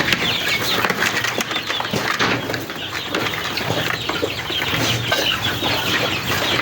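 Many cross-breed chickens on a goat farm cluck and squawk continuously in a dense, loud chorus beneath a raised goat platform, with occasional wing flaps in the noisy farmyard.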